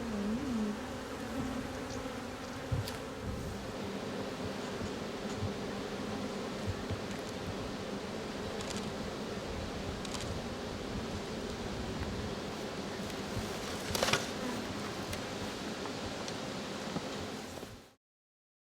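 Honey bees humming over an open hive full of honey frames, a dense continuous buzz held close for the whole stretch with a brief louder swell, then cutting off abruptly.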